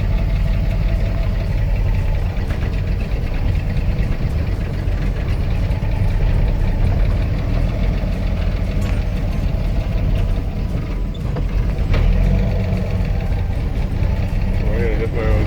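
A 1961 Travelette with a 1958 swapped transmission, its engine running steadily as the clutch is let out, a continuous mid-pitched rumble with some knocking, with people talking over it throughout.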